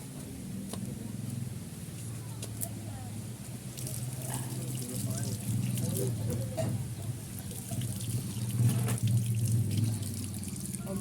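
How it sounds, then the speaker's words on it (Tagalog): Tap water runs steadily into a sink during dishwashing, a continuous splashing rush that lasts throughout at moderate level, with faint voices in the background. "Maghugas na ako ng pinggan guys."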